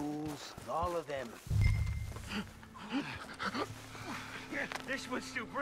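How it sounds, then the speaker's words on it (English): A wounded man in Red Dead Redemption 2 pants and breathes heavily up close, with ragged, rhythmic gasps and whimpering sounds under a low rumble. "This one's still breathing."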